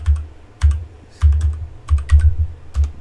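Typing on a computer keyboard while running DISKPART on a Windows PC, with short bursts of close key clicks separated by brief pauses and no talking.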